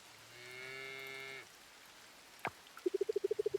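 A cow in the farming game Coral Island lets out a long, clear moo, followed after a pause by a sharp click and a quick run of evenly spaced plinking tones, with no talking.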